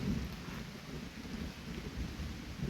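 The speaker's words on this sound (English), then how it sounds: "It's raining." Steady rain falls around a camp in the Daniel Boone National Forest of Kentucky, with a low rumble of thunder beneath the continuous hiss of drops, fairly quiet and without voices.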